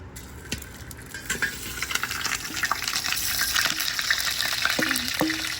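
Lamb meat sizzling in oil on a sac pan set up outdoors in a garden, with a steady crackling fry and occasional stirring scrapes and clinks close by.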